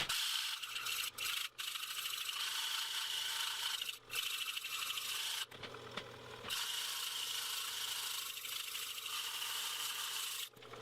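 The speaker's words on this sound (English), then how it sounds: "I'm going to sand this up to 600" Sandpaper rubbing against a woodturned pocket mirror spinning on a lathe, worked up to 600 grit, a steady close hiss broken by a few short pauses and knocks.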